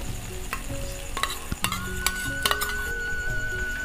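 Cabbage kofta curry masala frying over low heat in white oil, a continuous sizzle with several sharp spatula scrapes and pan knocks against it, no voices.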